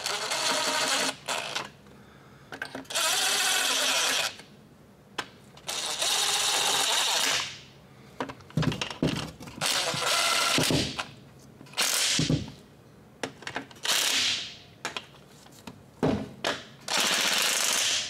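A power tool, likely an impact wrench, tightens bolts on an LS engine's transmission in a home garage swap, firing in loud, rattling bursts of a second or two separated by pauses, about ten bursts in all.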